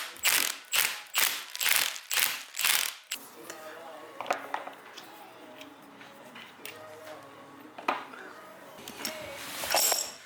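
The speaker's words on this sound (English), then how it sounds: "We finally got the gear puller." A gear puller on a Ford Focus ST transmission ratchets in a run of about six crisp, evenly spaced metallic clicks, followed by scattered lighter clinks and taps of the tool and parts.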